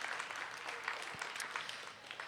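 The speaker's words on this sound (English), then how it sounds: "Can we give John a little round of applause?" A small audience at an Ohio State Fair 4-H skit competition claps for a sound technician. The applause is brief, faint and distant, with a steady pattering texture throughout.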